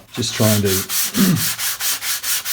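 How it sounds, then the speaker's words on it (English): Steady rhythmic hand-sanding strokes with 220-grit sandpaper on a guitar kit body, a back-and-forth rasp repeating about every third of a second, with a short burst of speech near the start. "What I'll be doing is just sanding with a 220 grit paper"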